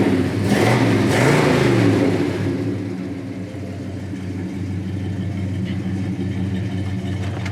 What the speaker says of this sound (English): Today, we're doing a walk around and test drive on this 1970 big black Chevelle.